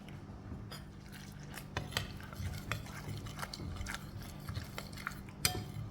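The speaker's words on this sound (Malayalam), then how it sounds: "ചൂടുവെള്ളം ഒഴിച്ചിട്ട് കലക്കിയെടുക്കുകയാണ് ചെയ്യുന്നത്" A spoon stirs wheat flour with hot water in a bowl, giving repeated clinks and scrapes against the bowl in an irregular rhythm, close and fairly quiet.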